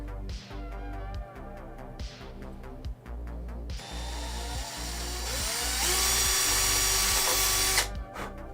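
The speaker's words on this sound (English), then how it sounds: "we must have a wee bend in that drill bit because it's wobbling about something fierce" A power drill with a slightly bent bit runs in repeated short bursts, then a longer rising whine, the motor surging and wobbling loudly up close with no talk.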